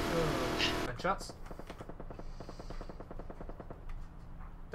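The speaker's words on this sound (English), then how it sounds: "That sounds like the same gunshots that were shooting at us." Rapid automatic gunfire in the video game Ring of Elysium, a steady burst of evenly spaced shots at moderate distance following a louder noise, with players talking over it.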